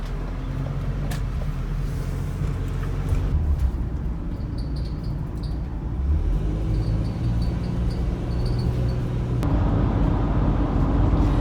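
Steady road rumble and tyre noise fill the cabin of a Ford Transit 150 van cruising on the highway, with a constant low drone and a few faint clicks and rattles.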